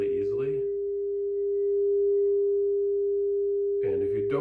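A 10-inch frosted crystal singing bowl tuned to G, played with a suede mallet, holds one steady pure ringing tone, with short bursts of a voice talking at the start and the end.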